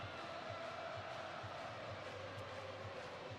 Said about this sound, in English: Crowd's lathered up and into it now.